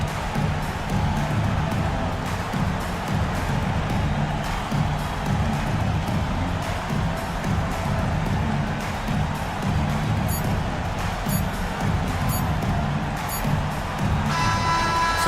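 Home crowd in a Euroleague basketball video game cheers after a victory, a dense steady roar of arena noise throughout with some brighter crowd bursts near the end, no clear talk on top.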